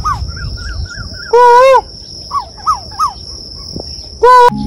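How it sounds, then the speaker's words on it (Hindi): A pair of Asian koels calls from a tree in a village, giving short rising whistled notes in a repeated series, joined by two loud, harsh, layered bursts and a steady high insect drone. "यहाँ पे कोयल बैठे हुए दो हैं ये शायद"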